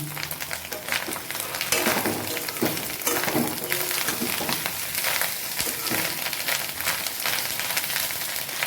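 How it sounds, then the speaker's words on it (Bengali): Fish roe bubbles and fries in oil along with bits of potato and fish, a dense, loud, continuous crackling sizzle with busy popping throughout and no talk. "আওয়াজ শুনতে পাচ্ছেন কীভাবে ফুটছে মাছের ডিমগুলো।"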